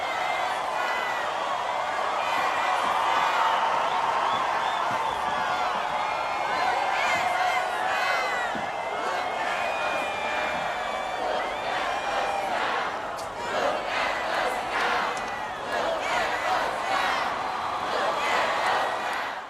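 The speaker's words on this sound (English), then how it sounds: "the crowd's chanting" A large crowd of extras chants and shouts together in a recording session, a dense continuous roar of many voices with rising whoops and cheers throughout, loud and steady without pauses.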